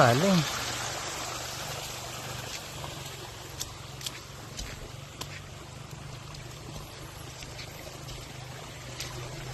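Strong floodwater rushes and trickles in a steady low wash, with occasional small clicks and knocks over it; no one speaks.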